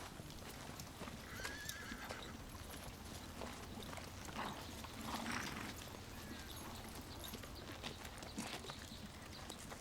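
Russian horses clip-clopping along with steady hoofbeats, a neigh or whinny rising briefly, set against a continuous faint outdoor bed with no talk.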